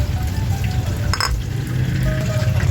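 Fish for an Ilocano dish boils in a pot with a steady bubbling and sizzling wash, close and continuous, with a brief clink of cookware partway through.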